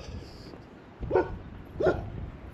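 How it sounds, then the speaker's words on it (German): Dog on a forest path near the Latvia-Lithuania border, two short distant barks about a second apart, faint over outdoor wind and ambient noise. "Da ist mal wieder ein Hund."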